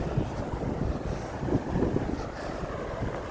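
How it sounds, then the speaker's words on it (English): Strong wind gusts across a winter beach on a bitter February day, with the ocean close by. It roars and buffets the microphone in an unbroken, loud rumble, with no voices. "It's the wind here."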